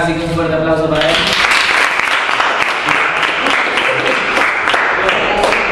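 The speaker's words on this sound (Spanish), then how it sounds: "un fuerte aplauso para él" Loud, sustained applause rings out at a school event in Bragado, a crowd clapping steadily for several seconds after a voice trails off at the start.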